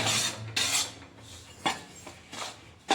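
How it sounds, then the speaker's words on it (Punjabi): A spatula scrapes repeatedly across a pan while gram flour is dry-roasted, giving rough rasping strokes in an irregular rhythm, close and fairly loud with short pauses between. "ਹੁਣ ਲੱਗੇ ਅਸੀਂ ਵੇਸਣ ਨੂੰ ਭੁੰਨਣ ਹੁਣ ਅਸੀਂ ਦੋਵੇਂ ਵੇਸਣ ਨੂੰ ਭੁੰਨਣਾ"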